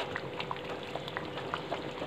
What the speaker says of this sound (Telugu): దీన్ని కూడా ఇలా బాగా మిక్స్ చేసి రైస్ అంతా బాగా ఉడకనివ్వాలి